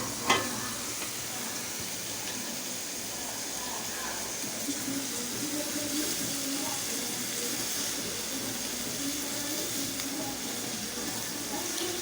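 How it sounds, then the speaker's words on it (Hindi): Onions and arvi (taro root) frying together in a pan while steaming, giving a steady, continuous sizzle and hiss with a voice talking over it. "जब तक हमारे प्याज फ्राई हो रहे हैं, साथ ही साथ हमारी अरवी जो है वो भी देखिए आप फ्राई हो रही है"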